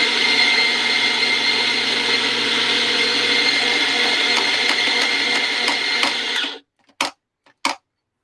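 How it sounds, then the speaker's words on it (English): An espresso coffee grinder runs steadily and loudly for about six and a half seconds, then cuts off, followed by a few short bursts as the grinder is briefly pulsed in a quiet room. "So we're going to grind coffee again."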